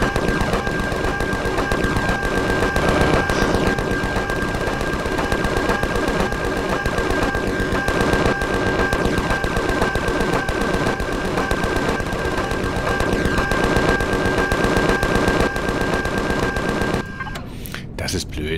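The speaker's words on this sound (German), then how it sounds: "Auf was schießen die denn da?" Automated turrets fire guns in the video game Empyrion Galactic Survival, a dense, continuous rattle of rapid gunfire that runs loud for most of the stretch before cutting off near the end.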